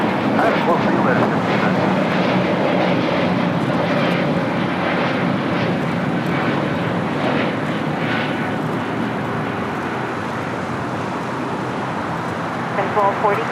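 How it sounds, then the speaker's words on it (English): A Spirit Airlines jet takes off at LAX, its engine roar a steady, loud broadband rumble that holds throughout, with voices talking over it. "we've got that Spirit flight. First takeoff."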